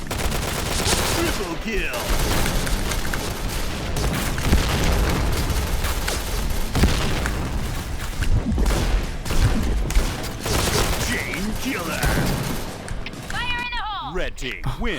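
Rapid gunfire from the online shooter Point Blank crackles almost nonstop, with dense bursts of automatic shots and occasional booms, loud and close, while someone talks over the shooting.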